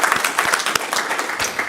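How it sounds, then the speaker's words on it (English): Applause in a city council chamber after a unanimous vote honoring a group of children, a short steady patter of many hands clapping with a few sharper individual claps, fairly close and continuous throughout. "you need to have your, round of applause"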